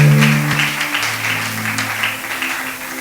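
A congregation at a church sermon applauding together, a dense wash of clapping that stays steady and fairly loud throughout, with sustained organ or keyboard tones underneath.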